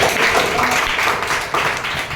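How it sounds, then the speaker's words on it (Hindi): Applause for a teacher in a classroom, a dense patter of many hands clapping steadily and fairly loud for about two seconds, with faint voices mixed in. "मैम के लिए जोरदार तालियां।"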